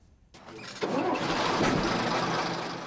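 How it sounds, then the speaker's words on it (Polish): Engine of a vintage PRL-era Jelcz 'ogórek' bus starting: a short crank, then it catches and settles into a loud, rough, steady idle. "pojazd jakby inny niż zwykle i silnik też głośniej pracuje niż zawsze"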